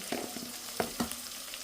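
Fenugreek seeds fry with onion and green chilli in a pan, a short, soft sizzle broken by a few quick scrapes.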